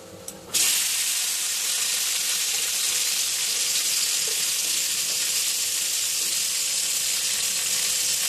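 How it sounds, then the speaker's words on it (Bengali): Whole okra (bhindi) frying in the oil left from fried fish, a loud, steady, close hiss of sizzling oil that starts abruptly and holds evenly throughout. "এবার আমি ওই তেলের মধ্যে ভেন্ডিগুলো ভেজে নেব"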